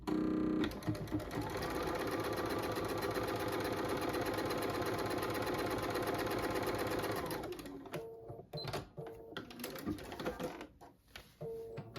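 A sewing machine runs continuously while piecing quilt fabric at an angle, a steady whirring stitch for about seven seconds before slowing into short bursts and handling clicks.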